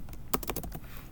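Typing on a computer keyboard: a short, close cluster of rapid key clicks in the middle, with quiet room noise before and after.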